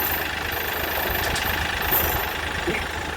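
A Kioti CK3510 compact tractor idles nearby with a steady low rumble and faint knocking, running evenly for a few seconds with no talk.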